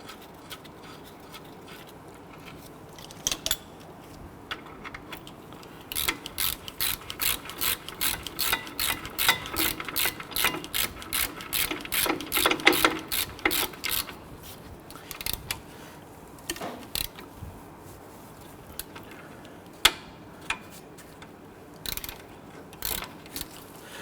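Bolts being run down with a ratcheting tool on the rear brake of a 2006-2010 Hummer H3, a rapid run of clicks in a long burst, with shorter bursts before and after, close and fairly loud, with no talking.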